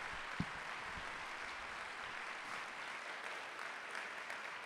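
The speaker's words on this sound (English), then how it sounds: "Please give them a round of applause." A jazz concert audience applauds the musicians with steady, dense clapping that holds at an even level throughout, a few sharper claps near the start.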